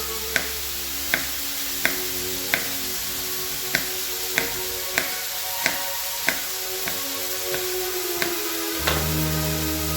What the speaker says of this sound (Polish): mieszam mięso, jak słyszycie, w tle, które się cały czas smaży.